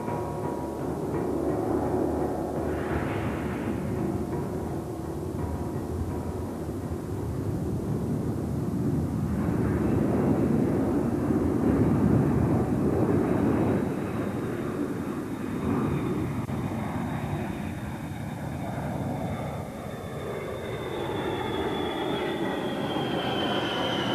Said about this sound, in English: It can circle the Earth, the supreme embodiment of air power, the strategic bomber.